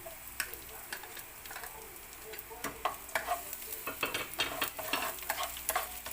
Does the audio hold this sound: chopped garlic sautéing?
yes